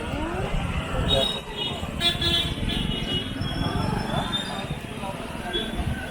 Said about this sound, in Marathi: गाड्यांची गर्दी